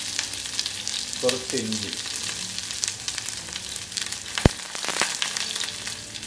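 Onion, curry leaves, chili and ginger sautéing in hot oil with popped mustard seeds, a close, steady sizzle broken by stirring scrapes and one sharp clink, with a brief spoken phrase.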